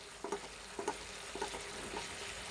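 Chicken pieces frying with spice masala in a pan, with a steady sizzle of hot oil broken by four evenly spaced stirring scrapes; close, moderate level, no voices.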